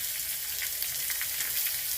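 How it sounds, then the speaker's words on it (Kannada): Mustard seeds tempering in hot oil in a home kitchen, a steady soft sizzle with fine crackling pops running throughout, fairly quiet and close, with no voices. "ಈ ಒಗ್ಗರಣೆದೇ ಸೌಂಡ್."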